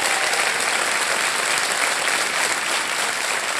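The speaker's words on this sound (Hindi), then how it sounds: "तालियां बज जाएं इनके लिए।" A studio audience on a television quiz show claps for a contestant family, dense sustained applause filling the whole stretch at steady loudness.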